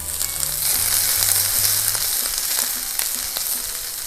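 Sizzling Philly cheesesteak meat frying in unsalted butter in a pan, a steady close hiss with occasional light stirring sounds and no voices.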